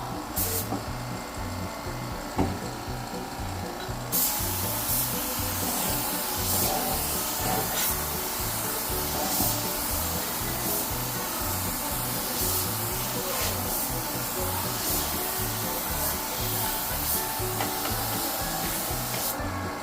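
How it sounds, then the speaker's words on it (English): A compressor-driven paint sprayer hisses steadily and continuously while coating wooden stair treads, a near, even spray noise with a low pulsing machine hum beneath it and no talking. "So I bought this paint sprayer, compressor, I guess you call it."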